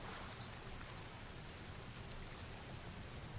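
A waterfall pours steadily into a pool in Metal Gear Solid 3, a soft, even rushing hiss that holds unchanged throughout, faint and with no voices over it.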